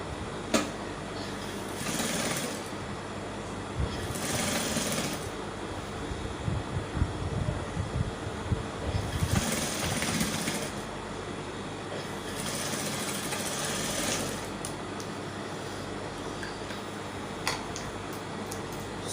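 A sewing machine stitches a ready-made bra cup onto a bustier in several bursts of a few seconds each, its steady motor whir close and moderately loud, with brief pauses between runs as the fabric is turned.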